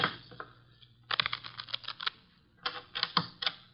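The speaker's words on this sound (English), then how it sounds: "The cards are shuffled." Quick bursts of crisp, papery riffling, two separate runs of rapid flicking with a short pause between, close by and fairly quiet.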